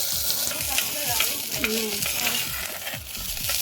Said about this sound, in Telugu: ఈ కుండలో వేపుకుంటే మాత్రం చాలా మంచిగా వేగుతున్నాయి